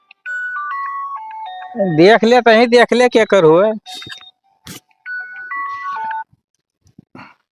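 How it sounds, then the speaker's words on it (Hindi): A mobile phone ringtone plays a repeating electronic melody of rising and falling tones for several seconds, loud and close, in a rural Awadhi comedy scene, with people talking over and around it. "ए पप्पा, इतना निधर के सुहावा तो फोनवा बाजत है।"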